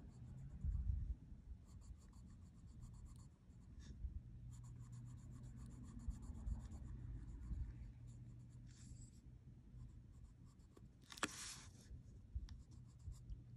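Colored pencil scratching across paper during a Zentangle drawing session, a soft continuous rubbing and scraping of strokes with short pauses, close and fairly quiet against a low background hum.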